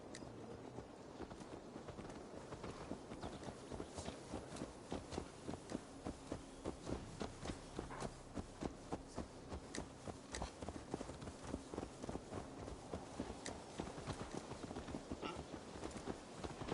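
Steady clip-clop of horse hooves in the video game Assassin's Creed Valhalla, a continuous even rhythm of hoofbeats over a low ambient hum, fairly close and moderately loud throughout.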